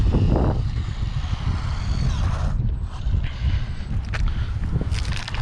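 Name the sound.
WLtoys 144001 brushless RC car driving at full throttle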